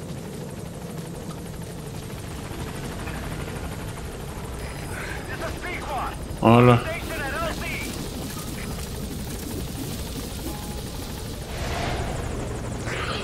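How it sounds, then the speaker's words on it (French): A helicopter in Metal Gear Solid 5 drones steadily with a continuous rotor thrum under game ambience, while someone speaks briefly in French midway. "J'entends un hélico."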